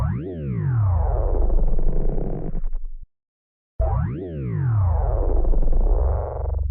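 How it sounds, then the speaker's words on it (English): A dubstep growl synth shaped by a hand-drawn pitch envelope plays two loud, buzzing, harmonically rich phrases, each with a swooping pitch rise and fall, separated by a short silence, alone with no voices. "I will draw a pitch envelope in the audio clip."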